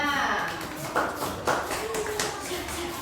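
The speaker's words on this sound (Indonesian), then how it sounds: "tepuk tangan dulu ada" A primary school classroom of fourth-grade children claps in a few sharp, separate bursts while voices keep talking over the clapping.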